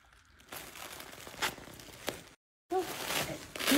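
Gift wrapping paper is torn and crumpled off a present in a quick series of ripping and crinkling bursts, loud and close, with a short pause before more crinkling.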